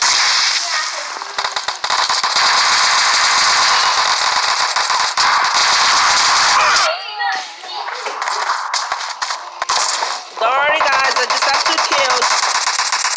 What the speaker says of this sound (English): Who's shooting at me? Oh, it's you that was shooting at me.